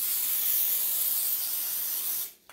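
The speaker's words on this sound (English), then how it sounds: "I'm going to go ahead and spray down the cookie pan." A steady hiss from an aerosol cooking spray coating a cookie pan runs for about two seconds, then cuts off abruptly.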